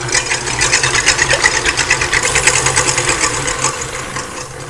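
An electric hand mixer runs steadily on medium speed, whipping room-temperature egg whites for macarons, a close, continuous buzzing whir with a fast even flutter and no talking.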